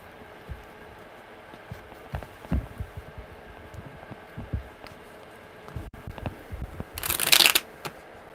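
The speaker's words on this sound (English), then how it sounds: "Okay, one more good shuffle." Tarot cards shuffled by hand in repeated soft riffling bursts, with light tapping, building to a louder, denser riffle near the end.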